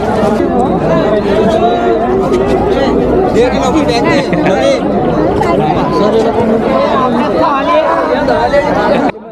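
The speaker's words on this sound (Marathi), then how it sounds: "एवढी गर्दी आहे ना इथं" Dense crowd of weekend visitors at Pavagadh Mahakali Temple in Gujarat, a loud continuous babble of many overlapping voices close around, steady throughout with no single voice standing out.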